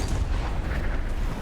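A tank cannon booms during a tank battle video game, a loud, dense rumbling blast that fills the whole short moment with heavy low-end roar.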